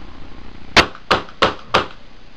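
Four sharp, evenly spaced metallic cracks from a Smith & Wesson SW40F Sigma CO2 airsoft pistol firing with blowback action, each report close and loud against a quiet background.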